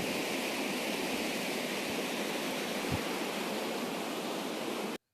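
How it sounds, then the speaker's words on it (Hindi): Meltwater flowing beneath snow along the Amarnath pilgrimage trail near Pahalgam, a loud, even rushing roar that holds steady and then cuts off abruptly near the end, with no voices. "देखो बर्फ़ के नीचे से पानी बह रहा है।"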